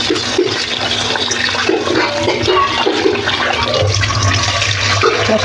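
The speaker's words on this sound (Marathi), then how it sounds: "आता हे सगळं धान्य आपण धुवून घेऊया" Rice, lentils and mixed grains, including Indrayani rice for a baby's porridge, are rinsed in water, giving a loud, continuous sloshing and gushing that runs steadily throughout.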